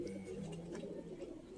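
Sialkoti pigeons cooing softly nearby, a faint continuous low burble of calls with no talking.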